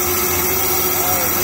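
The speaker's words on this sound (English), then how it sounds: "We're going slow because it's a brand new blade and we got to break it in. You can see it's cutting fine." An Amada HFA250-W band saw runs slowly through a cut with a brand-new blade being broken in, making a loud, continuous machine whine with a steady tonal hum and low drone.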